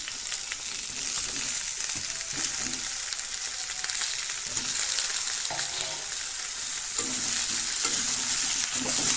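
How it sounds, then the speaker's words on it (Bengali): Eggplant and potatoes fry in a pan with a steady, close sizzle and crackle that holds evenly for the whole stretch, with occasional soft stirring scrapes and no voices. "বেগুন আলু দিয়ে এখন সুন্দর করে ওটাকে ফ্রাই করে নেব"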